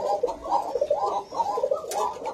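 Male Koka pigeon cooing in repeated rolling phrases, close and moderately loud, several low throaty coos in steady rhythm with no talk over them.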